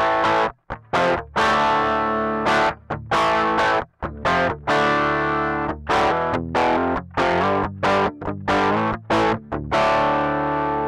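A Jackson Kelly JS32 electric guitar with high-gain passive pickups through a clean amp channel, sounding punchy and driven: a series of loud, chugging chords and short stabs with brief gaps between them.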